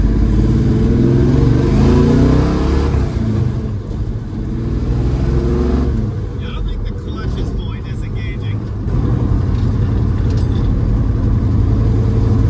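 A Plymouth Valiant A-body car engine with a freshly adjusted throttle cable revs in a loud, deep, sustained roar that rises and falls, running steadily with a brief easing midway.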